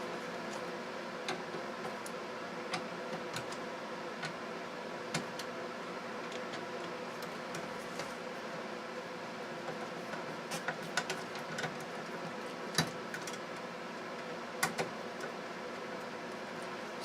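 A repaired Tandy 3100 computer runs steadily with a constant broadband fan and power-supply hum, broken by faint irregular ticks and clicks of drive activity, with no talking.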